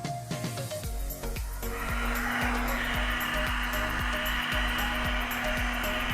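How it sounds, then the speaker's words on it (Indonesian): A hair dryer runs on maximum heat while drying hair, a loud, steady rushing blow with a constant whine, preceded by a few clicks and shuffling handling noises as it starts. "kita akan memulai mengeringkan rambut pakai hair dryer dengan panas maksimal"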